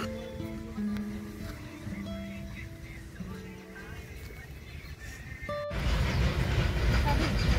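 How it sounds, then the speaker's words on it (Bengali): A train runs near Tollygunge railway station, heard first as distant tonal rumbling with faint horn-like notes, then a loud broadband roar as it passes close. "তোমরা দেখতেই পাচ্ছ যে ট্রেনের আওয়াজ হচ্ছে, আর ট্রেন আসছে, ওটাই হলো টালিগঞ্জ রেলওয়ে স্টেশন।"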